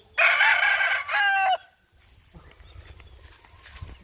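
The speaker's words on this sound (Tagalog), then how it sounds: "Yung mga manok." A rooster in a rural provincial yard lets out one loud, close crow that breaks off partway, then softer clucking from the chickens carries on underneath.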